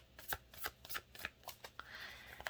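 Moonology Oracle cards being shuffled by hand, a quick run of close riffling flicks and slaps repeating for a couple of seconds with no talking.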